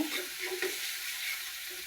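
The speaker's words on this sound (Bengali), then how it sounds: "এখন আমি ভালোভাবে কষিয়ে নেব" Ground spice paste with garam masala fries in a pan, a soft, steady sizzle and hiss, faint and close, with light stirring and no voices.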